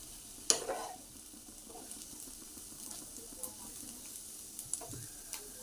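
Bottle gourd peels and potatoes fry in a pan on high heat, with a soft steady sizzle under scattered spoon scrapes and knocks against the pan as they are stirred. A few sharper clinks stand out near the start.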